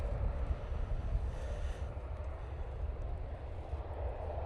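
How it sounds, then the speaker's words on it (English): A Ryanair airliner takes off from Manchester Airport, its jet engines a low, distant rumble with wind buffeting the microphone. "this Ryanair is taking the intersection departure"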